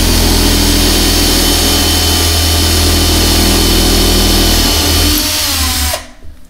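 Power drill boring a resonator hole into a wooden kalimba body, a board underneath, with steady loud whirring under light pressure that holds for about five seconds, then winds down and stops.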